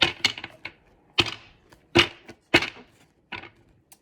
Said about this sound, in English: I felt compelled to pull some oracle cards